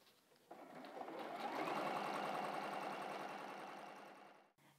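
A sewing machine stitches a flowing desert sand quilting texture, a steady rapid mechanical whir that starts abruptly, runs continuously for about four seconds close up, and stops, with no talking.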